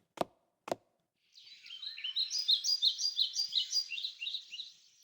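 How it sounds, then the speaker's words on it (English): Two sharp clicks, then birds chirping in the video game Blue Archive's indoor park: a quick, rhythmic run of bright, repeated tweets that stays clear and close against otherwise quiet surroundings. "Birds chirping. I hear birdies."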